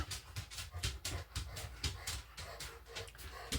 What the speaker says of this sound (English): I have a dog that thinks he's going to get more cat food